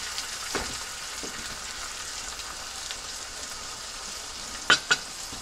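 An egg frying in a cast iron pan makes a soft, even sizzle that runs throughout, with a few sharp pops and ticks near the end. The sound is close and there is no talking.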